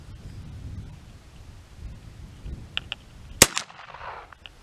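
One sharp, loud gunshot from a gun test-fired at an outdoor range for barrel length and velocity, cracking suddenly out of low rumbling background noise and followed by a short fading tail.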